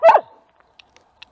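A dog gives one sharp, close bark at a woodland home, followed by faint scattered ticks and clicks in an otherwise quiet setting.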